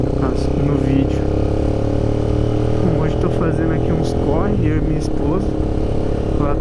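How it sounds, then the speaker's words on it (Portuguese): Honda CBX Twister motorcycle fitted with a RONCAR aftermarket exhaust, rumbling steadily and loudly throughout while out riding, with someone talking over the engine roar. "para ver se vai ficar legal o ronco da moto aí no escape"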